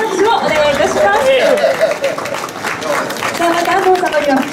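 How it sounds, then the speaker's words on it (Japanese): Applause at a latte art championship awards ceremony in Tokyo, a steady mass of clapping from the audience under someone talking and crowd chatter throughout. "皆様どうぞ今一度盛大な拍手をお願いいたします。"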